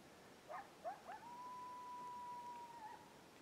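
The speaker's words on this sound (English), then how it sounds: "There's coyotes." Coyotes howl in the distance on the Santa Rosa Plateau at dusk: a few short yips rising into one long, steady, faint howl over quiet outdoor ambience.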